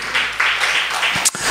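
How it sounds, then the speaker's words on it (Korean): A church congregation applauds during a service, a broad wash of many hands clapping that swells and dips, interrupted briefly by a sharp knock near the end. "우리 그분께 한 번 더 큰 박수로 영광을 올려드리십시다."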